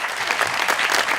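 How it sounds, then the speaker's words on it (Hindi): A studio audience on a Pakistani TV talk show breaks into dense, steady clapping, a brief close burst with no voices over it. "बहुत सी तालियां"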